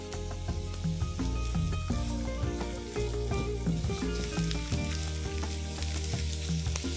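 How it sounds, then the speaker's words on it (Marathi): Tomatoes, garlic and ginger sautéing in a pan, a steady moderate sizzle with occasional stirring scrapes and clinks throughout. "टोमॅटो हलकेच परतून घेणार आहे, फक्त त्याचा कच्चेपणा जायला हवा म्हणून."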